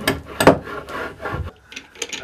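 Rough stone rubbed against a tool to sharpen it, a few harsh, gritty rasping strokes close by, then quieter scrapes.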